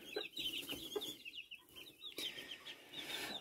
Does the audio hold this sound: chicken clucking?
yes